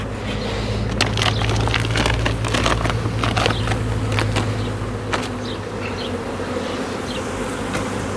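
Honeybees from a swarm being moved into a nucleus hive buzz dense and close around the microphone, a steady loud drone with brief sharper passes as individual bees fly near.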